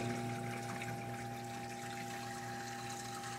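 In a large 12-foot reef aquarium, water drains down the overflow pipes into the sump. It makes a quiet, steady trickling rush over a constant pump hum, with no voices.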